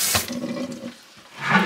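Tap water splashes onto a large kitchen cutting board as it is wetted for cleaning, a short steady rush that fades midway and swells again at the end.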